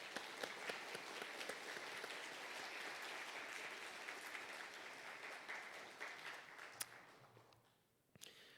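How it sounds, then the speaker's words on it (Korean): A congregation at a Friday late-night prayer meeting applauds a visiting guest with sustained, even clapping from many hands that carries for about seven seconds, then tapers off into quiet with a few last claps. "모처럼 오셨는데 한번 박수 한번 보내주시죠."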